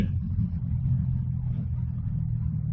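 A Jawa motorcycle's engine rumbles low and steady on an early-morning road during a Pune to Amravati ride, a continuous moderate drone without distinct revs or passes.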